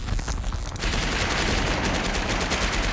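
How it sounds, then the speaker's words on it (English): Loud, dense gunfire rattles without pause through a 2004 PC video game battle, with rapid automatic bursts and overlapping shots close up in a sustained barrage. "We're under heavy fire."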